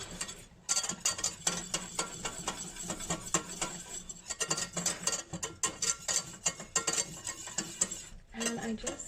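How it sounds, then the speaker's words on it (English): A whisk scrapes and clatters steadily against a pan as a butter and flour roux is stirred over heat for mac and cheese, a busy continuous metallic rhythm close up with no talk. "I'm going to just start to whisk that a bit"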